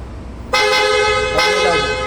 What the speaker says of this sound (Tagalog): tapos busina ka sir.